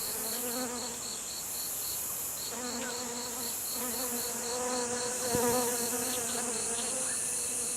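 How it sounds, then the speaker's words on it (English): A blue-banded flower bee hovers near blooming alpinia and wild peony in Taiwan, its vibrating wings making a steady, loud, close buzz that swells and dips in pitch, with other insects droning alongside. "Through vibrating its wings, a flower bee creates airwaves, which in turn facilitate the collection of pollen."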